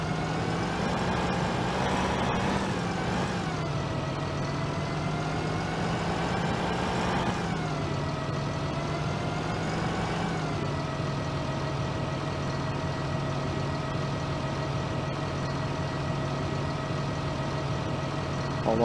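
A Fendt 8350 combine harvester engine drones steadily in Farming Simulator 2009, a constant loud mechanical hum with a slight pitch rise around the middle, heard alone without talk.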